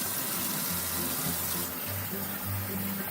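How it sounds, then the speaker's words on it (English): Cold tap water runs steadily over a raw whole chicken being rinsed in a kitchen sink, a continuous close splashing stream. "we're going to rinse the chicken off with cold water"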